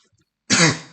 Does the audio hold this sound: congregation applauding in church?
no